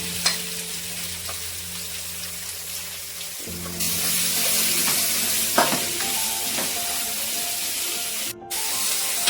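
Onions frying with curry leaves in a hot pan for kappa biryani, a steady bright sizzle that jumps louder as the onions go in, with occasional clinks and stirring scrapes close by.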